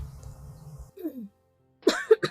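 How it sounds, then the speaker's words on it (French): A few short coughs heard close by, a brief cluster of sharp bursts near the end after a quiet gap, following a little low murmuring. "Pourquoi je tousse beaucoup?"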